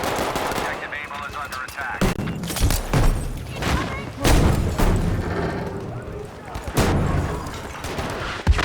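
Repeated heavy booms from explosions mix with bursts of gunfire during a Battlefield V firefight, with sharp blasts recurring every second or two and a voice talking throughout.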